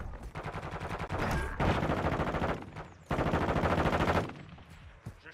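Gunfire in Call of Duty: Modern Warfare II during a prisoner rescue mission, two loud, close bursts of rapid automatic shots separated by a short lull, with scattered single cracks trailing off.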